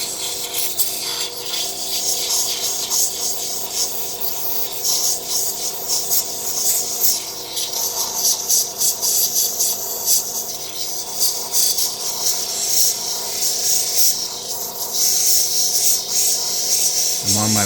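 Wood edges are smoothed on a well-worn 260 grit sanding wheel for an intarsia piece, a continuous hissing rasp with pulsing strokes, close and fairly loud, with no talk.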